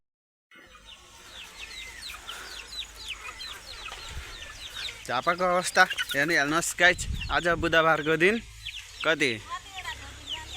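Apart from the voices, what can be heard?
roosters clucking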